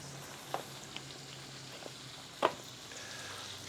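A ribeye steak sizzles softly in a pan while being basted, a faint steady fry with a few small pops and one sharper spatter, no voices.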